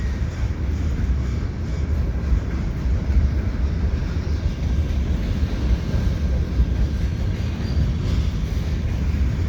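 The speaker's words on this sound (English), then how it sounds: "These agricultural trains come from Saskatchewan." A CN agricultural unit freight train from Saskatchewan rolls over the Lachine Canal bridge in St Henri in winter, producing a loud, steady, continuous rumble and rattle of wagons that persists throughout without a break.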